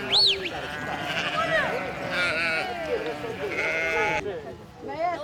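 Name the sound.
sheep bleating, flock of ewes after milking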